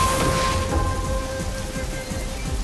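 Steady rain pours with rumbling thunder in a Samurai Warriors 2 battle scene at Nagashino, a dense continuous wash of noise without speech.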